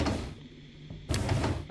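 A drawer slides open and thuds in a horror game mansion, two short scraping bursts a moment apart, close and fairly loud over a quiet backdrop.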